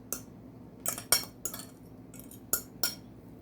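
Metal spoon clinking and scraping while spreading crushed ackee sauce across festival flatbread, six or so sharp, close taps spaced irregularly over a quiet background.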